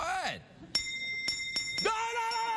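On a TV talk show set, a bell is pressed several times, giving sharp ringing dings spaced irregularly, while voices talk and exclaim around the strikes.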